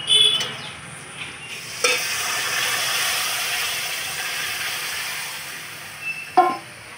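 Spice tempering with Kashmiri chili powder sizzling steadily in hot oil, joined by a couple of sharp clanks and a splash-like burst as lentils for egg dal go into the pan, close with no talk.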